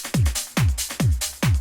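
A punchy drum loop thumps four steady beats with booming kicks, snappy hits and bright hi-hats, loud and tight.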